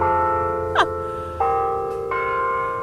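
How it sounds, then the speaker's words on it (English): A church bell ringing at noon as part of a tuned midday chime, three clear, resonant strikes at different pitches spaced about two-thirds of a second apart, each left to ring and hum on under a steady room tone. "I'm gonna wait for this bell."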